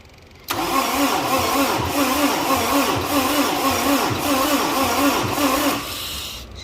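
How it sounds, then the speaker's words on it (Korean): An MZ957 engine under repair cranks heavily with a rhythmic, laboring churn for several seconds, loud and close, then the sound drops off. "엔진을 한번 구동 한번 해 보겠습니다."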